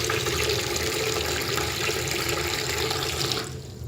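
Water pours steadily into a container, a continuous broadband rush that holds near and loud for several seconds before easing off at the very end.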